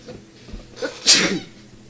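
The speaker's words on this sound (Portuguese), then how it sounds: "Desculpa, gente, espirrei." One sharp human sneeze erupts up close, preceded by a brief intake of breath and then a short burst of air, with quiet all around it.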